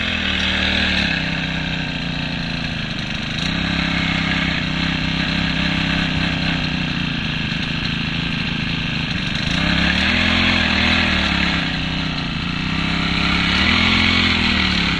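A power sprayer's small engine runs steadily and loudly throughout, its droning pitch dipping and rising in slow waves as the throttle shifts, with no talk over it.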